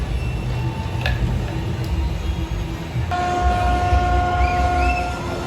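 Rumbling Mindbender roller coaster machinery at Six Flags Over Georgia during testing as the train stops on the lift hill, then a steady electronic tone with repeated high beeping chirps over it, moderately loud with no voices.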